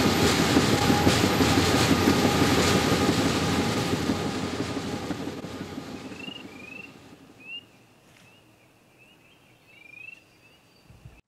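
A freight train rolls by loud and close with steady clattering wheels, then fades off into the distance, leaving faint bird calls in a quiet outdoor setting.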